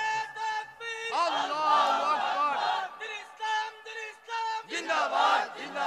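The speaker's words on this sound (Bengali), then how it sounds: "একসাথে জবান খুলে মুখ খুলে জোরে সুরে নারায়ে তাকবীর" A large crowd at an Islamic sermon loudly chants the Nara-e-Takbir call and response, with several bursts of massed voices shouting in unison, rising and falling with short pauses between each roar.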